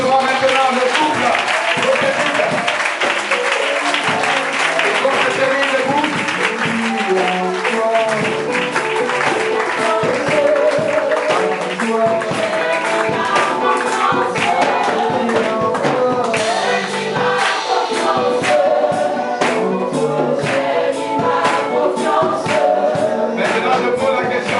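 A church congregation applauds and cheers a newly consecrated couple, with dense, loud, steady clapping and crowd noise sustained throughout.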